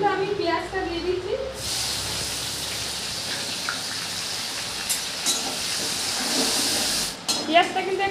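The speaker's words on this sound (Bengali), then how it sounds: "ফোড়নের মধ্যে কিন্তু আমি পেঁয়াজটা দিয়ে দিচ্ছি।" Onion tossed into hot tempering oil, already holding spices and fried potato, for a Bengali goat-fat dish, gives a loud, steady broadband sizzle. It flares up abruptly and holds for several seconds, with a voice talking before and after.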